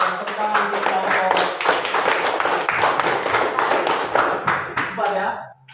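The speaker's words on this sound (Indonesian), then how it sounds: "Tepuk tangan untuk kelompok" A classroom of students claps for a presenting group, a dense, steady round of hand claps close by that fades out at the end, with speech faintly underneath.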